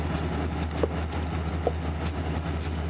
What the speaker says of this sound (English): Yeah, so it's 707 and 355, these little engine trains.